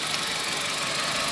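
A Suzuki Baleno 1.3 engine, freshly repaired after a failed head gasket and fitted with a new belt, runs steadily at close range, a broad, even mechanical hum with a fine rapid ticking and no talk over it.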